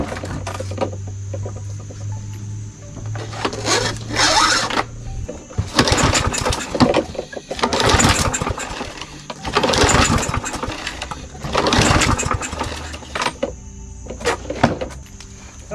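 A Briggs & Stratton 550ex push mower being pull-started: repeated rough cranking bursts, each a second or so long, come close and loud with short pauses between them, and the engine does not catch and settle into a steady run.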